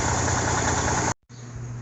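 A mid-sized engine runs loudly just after starting, a rough, steady idle that cuts out abruptly. After a brief silence it resumes at a lower, quieter level.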